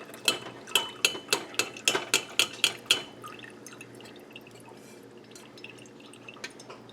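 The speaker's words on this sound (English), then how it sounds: "So now that this is cooled down, I'm going to strain this spiced vinegar." Spiced vinegar strained through a sieve, heard as a quick series of about ten distinct liquid drips and splashes in the first three seconds, then quieter scattered trickling and faint clinks.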